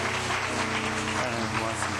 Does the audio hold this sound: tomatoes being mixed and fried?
no